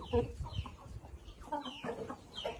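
Hens cluck repeatedly in a poultry breeding setup, short close calls in irregular bursts over a low background murmur.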